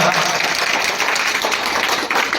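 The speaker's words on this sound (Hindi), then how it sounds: "इनके लिए फिर जोरदार तालियां" A short burst of audience applause at a school results and Class 8 farewell ceremony, honouring a student who came first, with a steady wash of clapping that is loud and close throughout.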